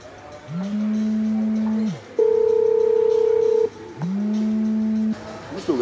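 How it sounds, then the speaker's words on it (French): A mobile phone rings nearby in a room, with a steady electronic tone pattern repeating in long sustained beeps that shift pitch between phrases, loud and alone with only faint background noise. "il y a son téléphone qui sonne là."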